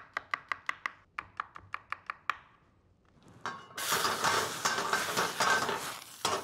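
Chopped garlic hitting hot oil for Korean bibimbap: a quick run of sharp knife-like taps first, a short lull, then a loud, steady frying sizzle that carries on close by to the end.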